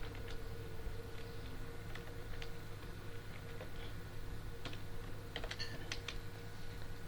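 Code being typed on a computer keyboard, a quiet run of irregular key clicks over a steady electrical hum, with a brief denser burst near the end and no talking.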